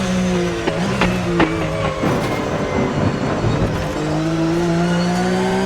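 A Porsche Carrera Cup car engine in the racing game Automobilista 2 at Kyalami howls and shifts pitch, dropping and climbing through downshifts with rough bursts and squeals, loud and close, no talking.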